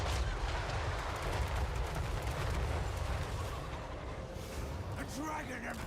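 Cannons and crane gunners fire in a Total War: Warhammer III battle, a dense continuous barrage of gunfire and blasts under a steady battlefield roar, with someone talking over it.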